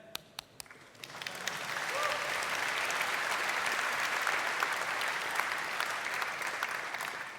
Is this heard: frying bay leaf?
no